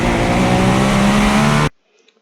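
A GTP race car in iRacing at Sebring holds its engine under power, a loud, steady high-revving drone that cuts off abruptly to near silence.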